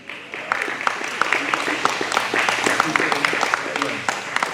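A crowd at a political watch party claps continuously, a dense patter of many hands with some sharper individual claps, and voices mix in underneath.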